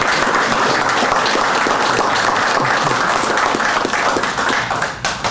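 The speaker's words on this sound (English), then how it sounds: "How about a big round of applause for the four captains?" A loud, dense round of applause for four football captains at an Old Dominion University football press conference, sustained, fast clapping from a close crowd that holds steady before tapering slightly near the end.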